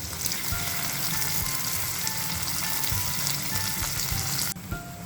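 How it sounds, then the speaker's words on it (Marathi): Onion and tomato fry in a pan after the tempering for sambar, with a continuous, even sizzle, close and fairly loud, with faint stirring sounds. "आता कांदा आणि टोमॅटो चांगला परतून घ्यायचा आपल्याला"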